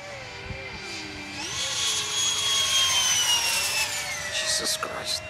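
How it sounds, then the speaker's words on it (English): A loud, high whining F-16 jet engine roar with rising and falling pitch, sweeping across the field as it moves, with people talking over it. "It really has the real jet sound to it."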